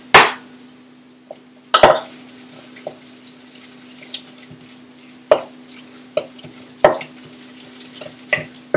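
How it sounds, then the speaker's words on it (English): A spoon works through a sticky date nut truffle mixture in a bowl, giving irregular soft scrapes and knocks over a faint steady hum, close and without talk. "Mix her up."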